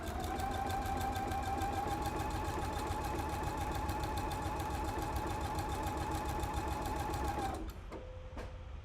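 A sewing machine stitching a single welt runs in a fast, steady mechanical whir with rapid needle ticks, then stops abruptly near the end, leaving quieter handling sounds.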